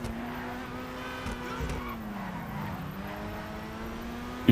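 A Grotti Turismo Omaggio car in GTA 5 drives with a continuous engine drone whose pitch rises and falls gently, over a moderate steady rumble of road noise, with a short bump at the end.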